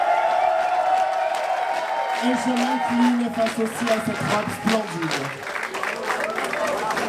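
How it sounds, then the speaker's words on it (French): Audience applause and cheering for a drag performer at a drag competition finale, a crowd clapping under a French-speaking host's amplified voice, with scattered whoops rising through the clip. "J'aimerais qu'on l'applaudisse"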